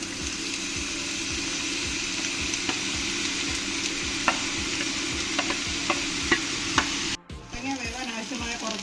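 Cut pumpkin for a pumpkin thoran tipped into a pan of fried spices and curry leaves, giving a steady loud sizzle with rhythmic stirring scrapes that cuts out abruptly near the end, followed by quieter clatter.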